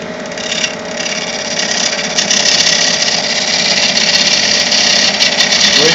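A wood lathe runs steadily while a small skew chisel shapes a tenon, giving a loud continuous whir with a grainy cutting hiss throughout and no voices over it.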